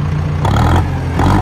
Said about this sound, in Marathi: बघा. आवाज बघा ट्रॅक्टरचा.